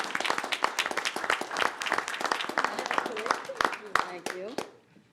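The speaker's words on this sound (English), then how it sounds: "a little round of applause" A brief round of applause from a small audience at a school board meeting, dense clapping that fades out near the end, with voices faintly underneath.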